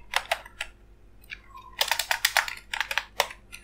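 Python code typed on a computer keyboard: close, crisp key clicks in quick irregular clusters, with a short pause between bursts and no talking.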